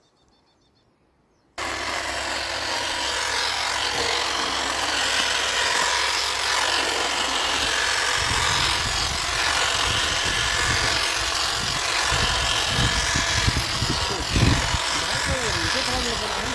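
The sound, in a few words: battery-powered grass cutting machine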